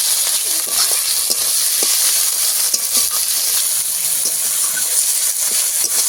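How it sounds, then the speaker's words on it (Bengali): Onion, tomato and garlic paste fry together in a pan for a Bengali fish curry, giving a continuous close sizzling hiss with occasional faint stirring scrapes and no talking. "এবারে সব কিছু একসঙ্গে একটু ভালো করে লাল লাল করে ভেজে নেবো"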